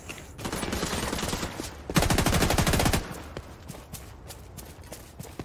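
Rapid automatic gunfire in The Division 2 video game, a dense burst of fast shots peaking in a sustained loud volley mid-clip, then trailing into scattered distant pops.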